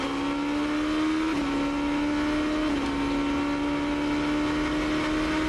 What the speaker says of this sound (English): One of the Supernova cars getting out of the way of a faster machine.